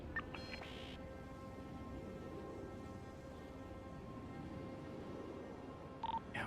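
Telephone dialing tones from a phone call in the video game GTA 5, played on a NoPixel roleplay server: short tone bursts at the start and again near the end over a steady hum of game background noise.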